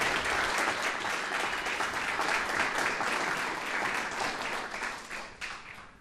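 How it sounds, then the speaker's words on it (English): Steady round of audience applause at a police department awards ceremony, many hands clapping evenly for several seconds and thinning toward the end. "A well-earned round of applause, please"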